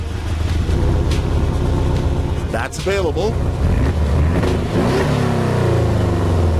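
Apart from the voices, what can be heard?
Porsche sports car exhaust revving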